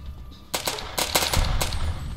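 Ruger SR-556 rifle gunfire in Fallout: New Vegas, a loud close burst of rapid shots starting after a brief quiet lead-in and then continuing as repeated sharp cracks.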